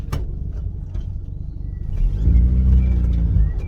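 An Austin 1100 car pulls away on a drive, its engine rumbling low then swelling into a louder revving climb as it accelerates, with no talk over it.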